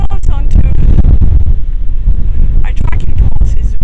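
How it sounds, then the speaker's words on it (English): Heavy wind buffets the microphone in loud gusts on the Pacific Crest Trail between Tehachapi and Walker Pass, with people talking intermittently underneath. "It's really crazy windy here."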